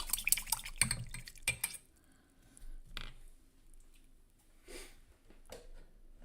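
A paintbrush being rinsed in water, with close splashing and knocking at first, then sparse faint drips and swishes in a quiet room.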